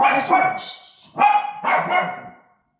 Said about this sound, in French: j'avais le chien qui aboyait